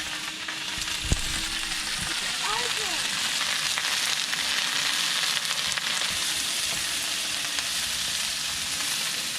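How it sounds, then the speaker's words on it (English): Food sizzles and crackles steadily in a hot pan, a dense, continuous frying hiss with occasional small pops and a faint stir. "So we just let that sizzle crack pop."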